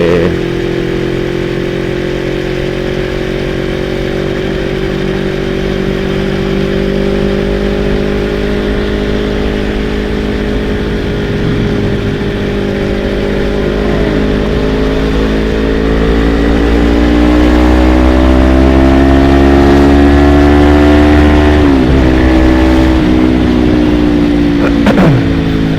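A Yamaha MT-25 motorcycle engine, ridden daily, runs close by with a steady, droning hum, then revs up and climbs in pitch for a stretch before settling back down. No one speaks over it.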